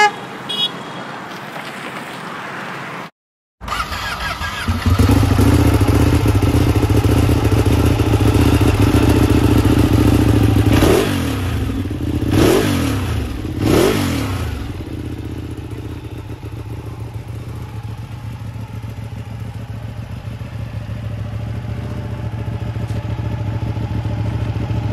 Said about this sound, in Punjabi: ਐਗਜ਼ੌਸਟ ਦੀ ਸਾਊਂਡ ਤਾਂ ਬਹੁਤ ਸਿਰੇ ਹੈ